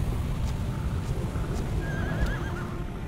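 Horse in the Shadow of the Colossus video game giving a loud, wavering neigh with hoof clip-clop, set against a dense, rumbling game soundscape; the whinny rises clearly over the steady background noise.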